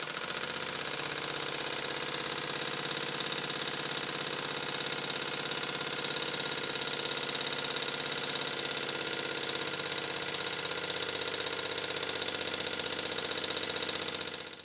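A small Stuart steam pump running on compressed air, leaking where a gasket is missing, runs steadily up close, a continuous mechanical chugging drone with a fast, even rhythm and no pauses, alone without voices.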